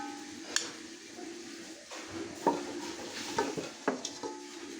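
Mutton korma is served from a cooking pot into a dish, with scattered metal spoon scrapes and clinks against the pot over a quiet background.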